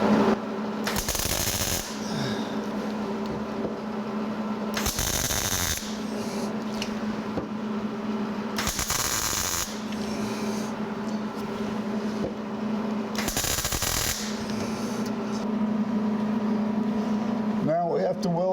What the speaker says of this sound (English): we'll weld this nut up